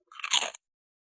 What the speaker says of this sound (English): It has that satisfying crunch that you can't get anywhere else.